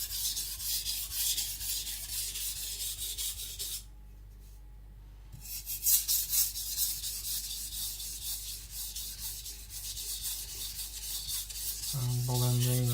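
A Shibata Kotetsu gyuto knife is worked on a Shapton Pro 220 coarse sharpening stone, giving close, rhythmic gritty rasping strokes. There is a brief pause partway through, then the strokes resume, and a low clunk comes at the end.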